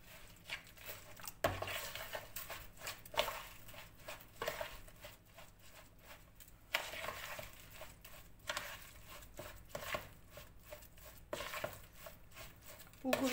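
Boiling water poured slowly over fine bulgur seasoned with a heaping spoon of salt in a kitchen, with soft splashing and occasional utensil clinks; no talking.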